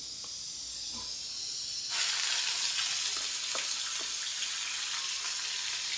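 Whole spices frying in hot oil in a pan, a close, steady sizzle that jumps louder at about two seconds as more goes in, with a few soft stirring taps.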